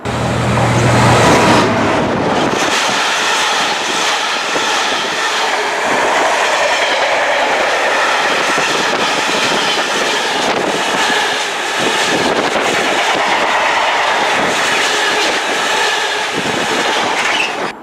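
A Class 66 diesel freight train passes on the Midland Main Line, a loud continuous rumble with wagon rattle and clickety-clack that stays steady and close throughout, with no talk.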